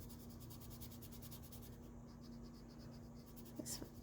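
An oil pencil swatched across paper with light pressure, giving a soft, continuous scratchy rubbing that keeps going in short repeated strokes, quiet and close, with a faint steady hum underneath.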